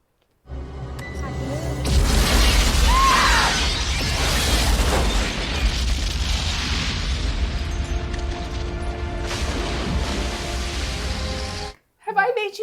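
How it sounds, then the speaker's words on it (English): A loud cinematic explosion bursts out, followed by a sustained roar of debris and crashing, then stops suddenly. "he was standing at that glass door and just got exploded right out of it"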